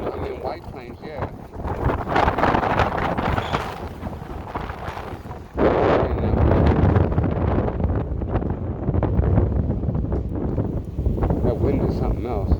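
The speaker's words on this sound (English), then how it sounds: "That wind is something else." Heavy wind buffets the microphone of a moving e-bike in White Plains, a loud, constant rushing roar that gusts harder midway, with talk faintly under it.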